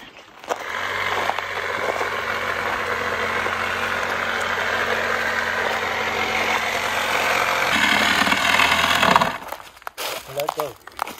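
A motorized power saw cuts into a tree during volunteer trail work in the San Gabriel Mountains near Inspiration Point on the Mt. Lowe Trail, droning steadily and loudly for about nine seconds before cutting off.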